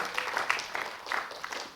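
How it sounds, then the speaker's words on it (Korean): Steady applause from a crowd at a poetry association's chapter founding meeting in Jeju, moderate and continuous, with no voices over it. "뜨거운 박수로 축하해 주시기 바랍니다."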